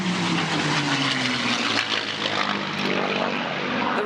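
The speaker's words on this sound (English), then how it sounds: "The Royal Australian Air Force P-51 Mustang from 100 Squadron has just overflown us." A Royal Australian Air Force P-51 Mustang from 100 Squadron passing overhead at a Remembrance Day service, its loud piston-engine propeller drone steady and then shifting downward in pitch as it flies past.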